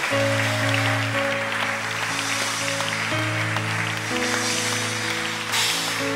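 A church congregation applauds in a steady, continuous wash of clapping that runs the whole time, mixed with sustained musical tones and no spoken voices.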